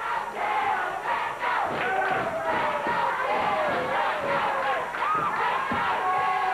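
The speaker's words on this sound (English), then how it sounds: "They're yelling, let's go, Jeff, let's go." A wrestling arena crowd during a 1989 Memphis wrestling match yells and chants in rhythmic bursts, loud and dense, with thumps from the ring and a commentator talking over it.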